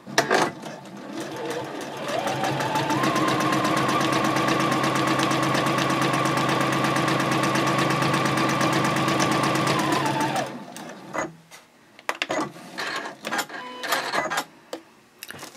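Sewing machine stitching straight quilting lines on a fabric pouch, running in one steady, close whirring burst for about eight seconds before stopping, followed by a few light handling clicks and rustles.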